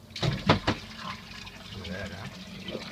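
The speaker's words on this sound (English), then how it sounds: "Oh, looks like brown water coming out of it." Brown, muddy water gushes and splashes out of a newly installed 3M Aquapure AP802 pre-filter, a few loud bursts at first, then a steady close flow while people talk over it.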